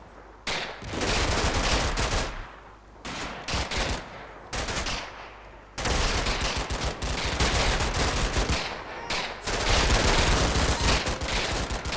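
Troops firing in Combat Mission: Battle for Normandy, with bursts of machine-gun and rifle fire in rapid cracks. Several loud volleys are separated by brief pauses, and the firing grows denser and nearly continuous toward the end.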